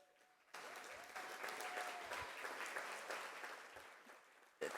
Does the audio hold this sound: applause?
yes